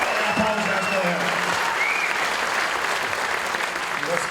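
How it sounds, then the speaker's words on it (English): An audience at a live talk event in Toronto breaks into steady, dense applause that fills the room for the whole stretch, loud and continuous, with a voice faintly audible over it near the start. "I want to give him a round of applause"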